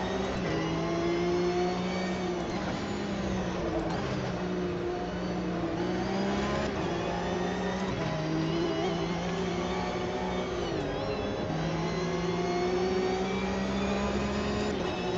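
Porsche Cup race car engines in Automobilista 2 at Willow Springs, a steady loud drone with rising and falling pitch as gears shift and the car accelerates, continuous throughout with no talking.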